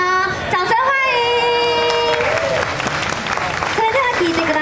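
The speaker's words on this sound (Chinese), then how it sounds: "掌声欢迎！" Audience applause and cheering at an anime convention stage show in Taipei, heard under loud music with a sustained melodic line running throughout.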